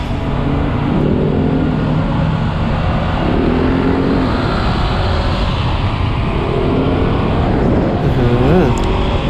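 A Honda CBR500R motorcycle accelerating on the road, its engine rising in pitch through several pulls beneath heavy, constant wind roar from the rider's position.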